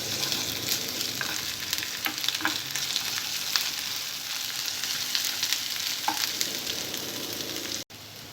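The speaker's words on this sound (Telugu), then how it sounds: "ఉల్లిపాయ ముక్కలు కొద్దిగా ఫ్రై అయిన తర్వాత అల్లం వెల్లుల్లి పేస్ట్ వేసుకోవాలి." Onion pieces with ginger-garlic paste frying in a pan for Hyderabadi egg kurma, a steady close sizzle throughout with a few stirring scrapes, no talk.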